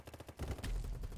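Sniper gunfire in the shooter game BattleBit: a run of quick sharp shots up front, then a dense, heavy burst of booming fire and rumble filling the rest, loud and close.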